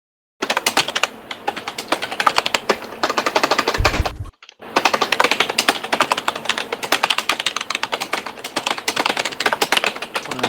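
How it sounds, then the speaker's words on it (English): Rapid keyboard typing in Star Wars: The Old Republic, a dense, fast clatter of key taps with a brief pause near the middle before the tapping resumes at the same steady pace. "Oh, the typing cracks me up."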